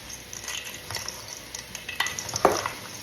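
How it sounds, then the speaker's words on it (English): Green pea salad with mild cheddar cheese being stirred in a bowl: soft, close scraping and light clinks come in uneven strokes, with a few sharper scrapes near the end and no talking. "I'm just gonna give this a little stir and see what we think."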